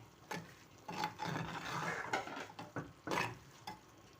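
Chana dal roasting in ghee in a pan, stirred with a spoon, giving repeated scraping and clinking strokes over a soft, steady sizzle, close up with no talking.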